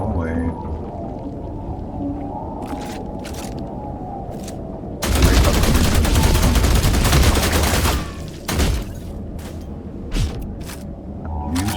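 Gunfire from a post-apocalyptic survival game: a sustained burst of rapid shots runs for about three seconds in the middle, then a few scattered single shots follow, with quieter ambience before and after.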